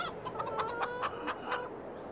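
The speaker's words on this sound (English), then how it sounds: "just make sure the chickens are all fed up for Christmas" Farmyard chickens clucking on a snowy Christmas morning, a run of short rhythmic clucks repeating steadily at moderate distance over a quiet outdoor background, with no talking.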